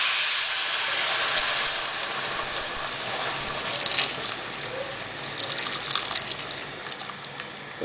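Tap water gushes into a cooking pot holding beef, a whole onion and bay leaves for seswa. The stream is a steady, hissing splash that fills the room, with a slight change in tone as the pot fills.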